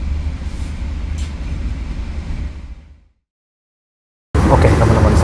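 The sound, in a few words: KA Logawa passenger train departing and running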